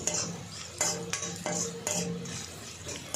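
A spoon stirs rice with chili powder and salt in a pot, giving repeated scraping, clinking strokes against the metal at an uneven rhythm, close and moderately loud, with no talk.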